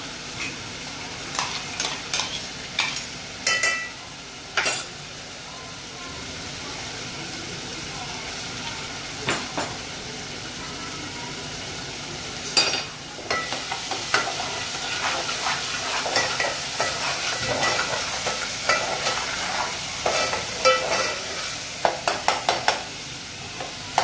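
Onion fries with ginger garlic paste for a crab masala, a soft, constant sizzle under intermittent clattering stirs, louder bursts of spoon strokes near the end.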